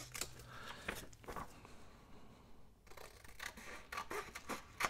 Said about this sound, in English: I think I'm just going to trim it off.